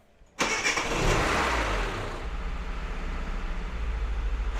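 A car engine catches after a brief crank and settles into a steady, loud idle of about a thousand rpm, running alone without talk.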